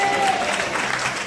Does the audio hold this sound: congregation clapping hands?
yes